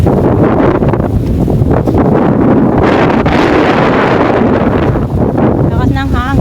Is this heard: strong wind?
yes